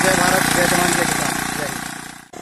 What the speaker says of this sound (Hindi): ये जो सिस्टम है सारा सिस्टम एक बाइक के ऊपर बना रखा है